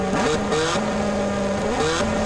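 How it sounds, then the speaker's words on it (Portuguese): A Honda CB1000 motorcycle in GTA San Andreas revving hard and pulling away, its loud engine note climbing and shifting pitch in close, continuous bursts. "Ela levanta só acelerando, galera, ó."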